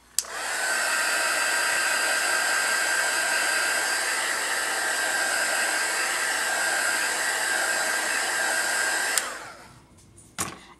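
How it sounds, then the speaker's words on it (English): A heat tool blows in a close, steady whine while drying watercolor leaves painted on a card. It switches on with a click, runs about nine seconds and then clicks off, followed by a brief faint rustle. "I'm going to hit that with the heat tool for a second."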